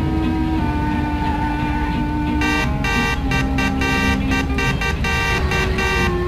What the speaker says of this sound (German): Wie klingt eigentlich die Hupe?